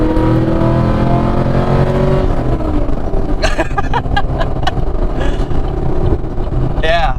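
A 2014 Chevrolet Camaro SS V8 roars as it accelerates through a third-gear pull, its pitch climbing then settling into a loud rumbling growl, with a few short voice bursts later on.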